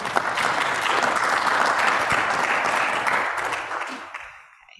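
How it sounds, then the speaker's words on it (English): Audience applause after a talk, a dense even round of clapping that holds steady and then tapers off toward the end, heard alone without speech. "the audience here would like to applause"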